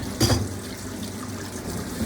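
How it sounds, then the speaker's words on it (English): Cold tap water runs over cooked pasta draining in a kitchen sink, a steady close rushing and splashing stream with a brief louder gush near the start. "I'm gonna take the pasta out and I'm gonna drain it with cold water"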